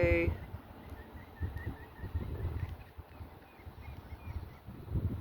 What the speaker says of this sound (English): That's a weird bird sound. I never heard that one.